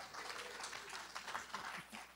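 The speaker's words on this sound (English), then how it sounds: "Give him a round of applause." An audience at a talk on peace and friendship and the legacy of Broken Concord breaks into a short burst of applause, with a voice briefly audible over the clapping.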